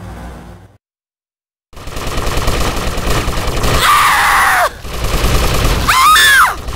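Gunfire in GTA: Vice City Stories bursts through dense game action after a short silent gap, with rapid shots and sharp whooshing effects rising over continuous loud background noise.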